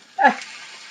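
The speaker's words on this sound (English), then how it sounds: "I just put a little drop of water to see if that sizzles" A short, sharp sizzle as a drop of water hits hot oil, bursting up quickly and then fading to a soft, steady hiss.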